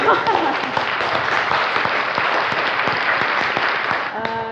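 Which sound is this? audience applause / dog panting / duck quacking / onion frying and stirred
audience applause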